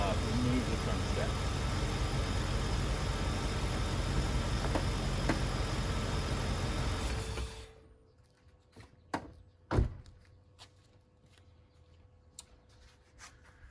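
A car engine idles steadily and loud for about seven seconds before shutting off, leaving quiet background with a few clicks and clunks of handling.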